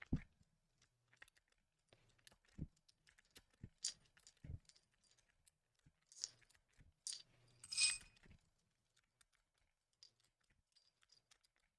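Keystrokes on a Luminkey65 mechanical keyboard, sparse irregular clacks and taps at close range, quiet and isolated with short pauses between presses.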